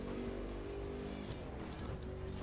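Engine drone of a car in a PS4 racing game, a steady low hum with harmonic whine holding throughout and no clear revving peaks.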